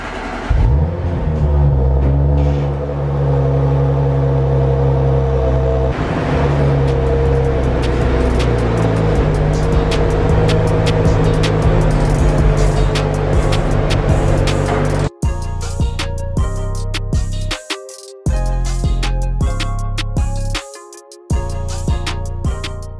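An Audi RS4 drives along with a steady, loud engine drone and shifting tones, heard from close by for a long stretch, with the sound changing and briefly cutting out in the later part.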